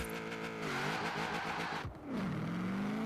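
A Chevrolet Camaro burnout build launches in Forza Horizon 4, its engine revving hard and climbing in pitch, dipping briefly at a gear change, then pulling up again, loud and close throughout.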